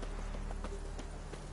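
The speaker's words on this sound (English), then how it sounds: "Run, Roach. Not so fast, Roach." Roach, Geralt's horse in The Witcher 3, runs with a quick, steady clip-clop of hooves, close and moderately loud over a faint low game ambience.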